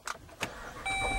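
2011 Jeep Grand Cherokee Laredo push-button start: a couple of soft clicks, then the engine catches and settles into a steady hum.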